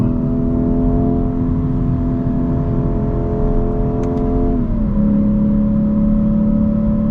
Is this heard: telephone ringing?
no